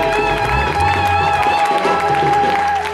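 A church congregation on its feet acclaims and cheers, a dense, loud crowd roar with clapping and voices blended together, continuous and close throughout.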